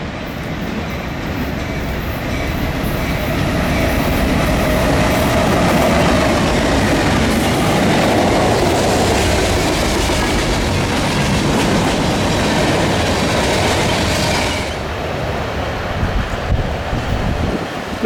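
Freight train led by a BNSF H2-9 with a KCS AC4400 and a BNSF GP38-2 trailing rolls past close by on a Norfolk Southern main line, a loud continuous rumble and clatter of wheels with wind noise, fading near the end.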